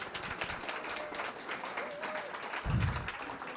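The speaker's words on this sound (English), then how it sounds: "I just want to say I got a louder applause." Audience applause at a groundbreaking ceremony for a West Tower, a steady broadband clatter of clapping across the whole moment with a low thump near the end and faint voices underneath.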